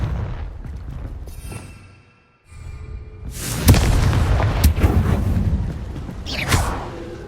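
Confringo spell blasts in Hogwarts Legacy, the fantasy wizarding video game, landing as a few loud booming bursts with whooshing tails after a brief silence, spread over several seconds of battle noise.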